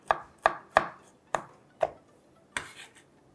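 A knife chops cauliflower pieces for paratha on a board with six crisp, close knocks at an uneven pace, each ending quickly, and a final chop with a brief scrape.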